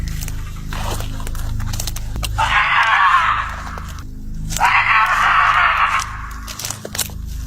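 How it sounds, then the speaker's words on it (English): Sudden screaming at night in the woods: two long, loud shrieks of a couple of seconds each, separated by a brief pause, over a rough scraping background. "sudden screaming cut through the night"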